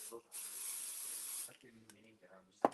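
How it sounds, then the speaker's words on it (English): Pixie spray sprayed from an aerosol can, one long steady hiss lasting about a second, followed by quiet talking and a brief knock. "I'm going to pixie spray this"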